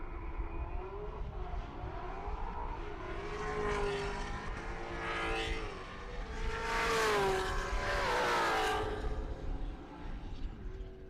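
Ford and Chevy drag race cars run down the strip at Pueblo Motorsports Park. A loud engine roar rises and falls over eleven seconds and peaks as they pass, with a constant wash of crowd and track noise.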